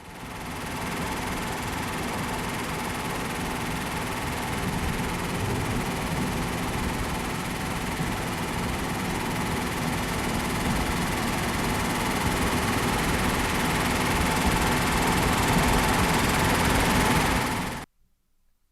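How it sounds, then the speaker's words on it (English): Datsun engine running with an exhaust leak on a snowy day, a steady dense rumble and hiss that holds constant for about seventeen seconds before cutting off abruptly. "You can hear in the audio that it still has an exhaust leak."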